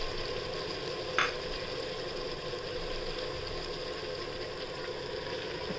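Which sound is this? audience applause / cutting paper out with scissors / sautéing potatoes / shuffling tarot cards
sautéing potatoes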